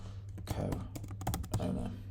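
Keys clatter on a computer keyboard as someone types job titles into a search field, a quick irregular burst of close, crisp clicks with a low hum and a voice partly heard underneath.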